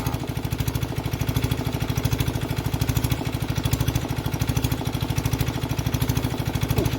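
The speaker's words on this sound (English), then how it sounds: "I hope you can hear me over the noise of that compressor." An air compressor runs nearby with a loud, steady, rapid chugging throb that continues unbroken throughout.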